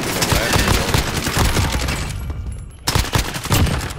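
Rapid bursts of gunfire in Call of Duty: Modern Warfare crackle in dense volleys, briefly dropping out before resuming, with a voice speaking now and then.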